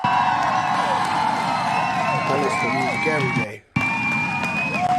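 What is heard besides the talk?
round of applause and cheering for hip-hop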